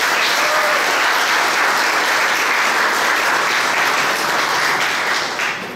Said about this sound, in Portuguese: E peço uma salva de palmas para vocês por essas duas coisas.